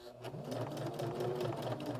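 A sewing machine stitches through denim for a small keychain, a steady fast mechanical whir with a rapid even needle rhythm, fairly quiet and continuous.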